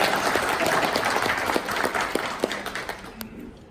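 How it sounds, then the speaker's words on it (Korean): Audience applause at a Korean business presentation on energy and blockchain, a steady mass of clapping filling the room for several seconds, fairly close and even, then thinning toward the end. "이럴 땐 박수도 치는데"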